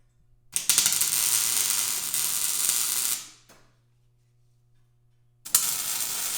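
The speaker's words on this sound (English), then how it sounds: "You can hear how good that rust welds." Arc welding on rusty steel of a wagon wheel: a loud, steady crackling sizzle runs for about three seconds, stops with a faint hum left, then strikes up again.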